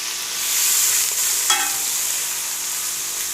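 Ground green chilli and ginger frying in a pot make a loud, steady hiss of sizzling oil, with one brief scrape of a spoon partway through and no voices.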